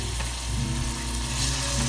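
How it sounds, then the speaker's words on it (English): Small piece of food frying in hot oil in a pan while cooking garden produce, a steady close crackling sizzle running throughout with a few sharper pops. "Ooh, do you guys hear that? That's the sizzling goodness right there."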